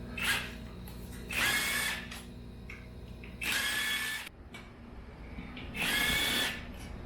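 Three loud bursts of a power tool loosening bolts on a Harley compensator, each roughly a second long, whining high and steady and separated by short pauses with a low hum underneath.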